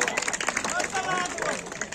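A crowd applauds at a village wrestling dangal during a temple fair, with rapid scattered clapping and hubbub of voices, fairly faint and mixed with talk.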